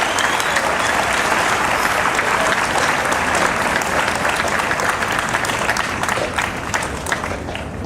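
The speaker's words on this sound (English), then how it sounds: "Give her a big round of applause." An outdoor organ-concert crowd gives a big round of applause, steady, dense clapping at even loudness throughout, easing slightly at the close.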